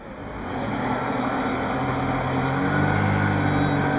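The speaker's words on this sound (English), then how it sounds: "There we go, so it's running now. Little blip of the throttle." A Sea-Doo Spark jet ski engine runs close by with a steady, loud hum that swells in pitch as the throttle is blipped toward the end.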